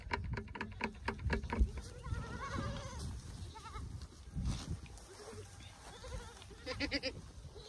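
A herd of goats bleats repeatedly on a farm, several animals calling over one another at varying distances, with low rumbling background noise and occasional voices.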